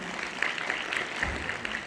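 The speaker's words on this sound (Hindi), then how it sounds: "एक बार बच्ची के लिए जोरदार ताली।" An audience at a rationalist gathering applauds loudly for a young girl. Short, even applause comes across as a steady wash, fairly faint and a little distant, with no clear speech.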